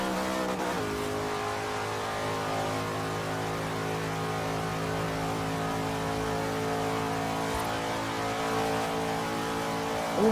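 A 1956 Ford F100 fitted with a 460 engine in the racing game Forza Horizon 3 revs and drones continuously, a loud, rich engine roar that holds steady throughout with no talking.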